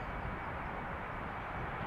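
Airplane at Amsterdam Schiphol Airport gives off a steady, loud broadband roar with no breaks and no talking.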